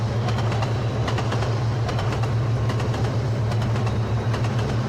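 A steady, even rumble and hum from the Barendra Express rolling along the rails between Rajshahi and Chilahati, heard from inside at moderate loudness with no talk.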